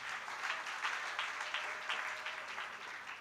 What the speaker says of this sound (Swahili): Pigie tu makofi tena.